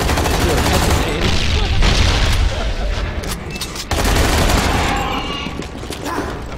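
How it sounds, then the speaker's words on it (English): A grenade blast and gunfire in a zombies video game make loud, dense booms and rattling bursts with a sharp crack midway through, and voices talk underneath. "Throw grenade!"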